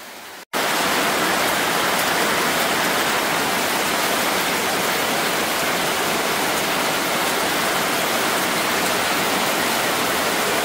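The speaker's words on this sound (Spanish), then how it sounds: "Es una maravilla en el campo lloviendo" Steady, loud rain pours over open countryside, a dense even hiss that starts abruptly after a brief moment and continues unbroken with no voices.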